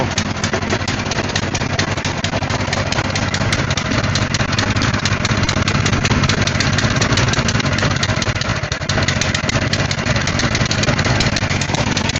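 An old revived small engine runs steadily with the choke closed, a loud, close, rapid popping idle that holds an even rhythm throughout without talk.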